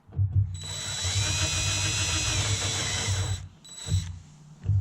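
A power drill bores out a rivet head on a CriCri airplane wing spar, whining steadily at close range for about three seconds, stopping, then spinning up again in a short burst.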